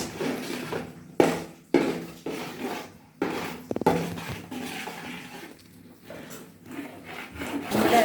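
Spatula scraping and stirring a thick jackfruit and jaggery paste in a heavy pan, a close, continuous rubbing and scraping with sharp knocks and pauses between strokes.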